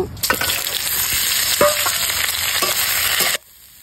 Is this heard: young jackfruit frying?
yes